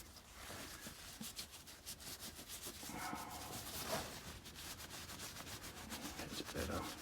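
A rag rubs wax onto a black, yellow and red micarta guitar pick, giving a steady, close, soft scrubbing and swishing with quick repeated strokes, no voices.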